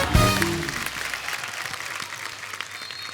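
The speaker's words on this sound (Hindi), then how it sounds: "एक बार अक्षय बाजी के लिए जोरदार तालियां" A studio audience at a comedy talk show breaks into hearty applause for a guest, opening with a brief musical sting and then settling into steady, dense clapping that continues throughout.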